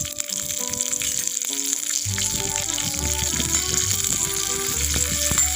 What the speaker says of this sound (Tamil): எண்ணெய் நல்லா சூடு வந்துட்டு இப்போ கடுகு போட்டுக்கலாம் கடுகு நல்லா பொரியட்டும் கருவேப்பிலை போட்டுக்கலாம்